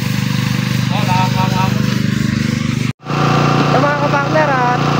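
A gas-powered sprayer engine runs loud and close with a steady buzzing drone, cutting out briefly and then starting up again. Speech is heard over it.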